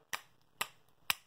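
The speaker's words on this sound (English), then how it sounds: "snapping" Three crisp finger snaps, evenly spaced about half a second apart, close and sharp against near silence, played along to a Sunday percussion jam.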